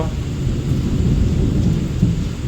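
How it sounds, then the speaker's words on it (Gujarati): Thunder rumbles through a steady monsoon rainstorm in Gujarat, a continuous low roll beneath the hiss of falling rain, loud and unbroken throughout with no voices. "વરસાદ કેટલો ગાજે છે."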